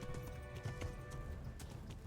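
Horse galloping in the medieval role-playing game Kingdom Come: Deliverance, rapid clip-clop hoofbeats running steadily and close with game music and ambience layered underneath.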